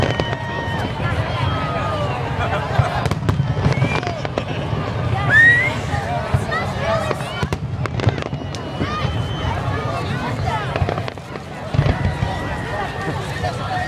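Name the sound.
fireworks display finale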